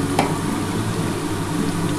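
Onions fry to light brown in a pan for a Bengali mutton and potato curry, a steady close sizzle holding throughout with a brief stir near the start.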